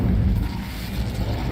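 An Incendio fire spell is cast in the video game Hogwarts Legacy, giving a brief, steady, deep roaring whoosh of flame, fairly loud and unbroken, with no voices.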